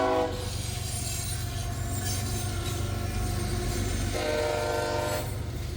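A heavy loaded coal freight train rolls past close by at Point of Rocks on the old B&O main line, with grinding, squealing wheels and a deep continuous rumble, its horn sounding briefly near the start and again toward the end.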